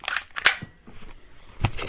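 A toy gun is cocked and fired indoors, with a few sharp plastic clicks and snaps, quiet and brief, amid faint household background.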